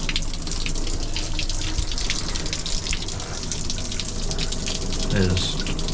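Shower water runs in a cramped shower cabin aboard the Great Southern rail train, a loud steady spray filling the whole stretch with a brief gurgle near the end.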